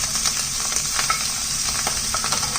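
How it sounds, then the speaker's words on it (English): Vegan pineapple fried rice with veggies and Kikkoman less sodium soy sauce being stirred in a hot pan, a constant close sizzle broken by quick scraping and tossing sounds. "Give this a nice stir."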